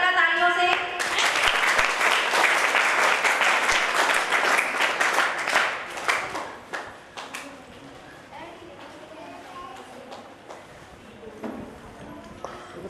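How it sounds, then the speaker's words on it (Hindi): A crowd at a school retirement ceremony claps loud and dense for several seconds before the applause thins to scattered claps and fades, with talk over it. "स्वागत करें सर का तालियों से।"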